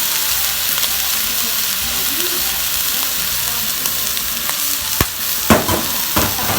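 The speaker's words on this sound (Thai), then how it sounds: "คนให้เข้ากัน" Chiang-da greens being stir-fried in a pan, a steady close sizzle with scraping stirs and a few sharp utensil clinks toward the end, no talking.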